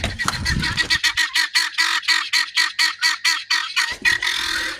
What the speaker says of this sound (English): I have guinea hens in my front yard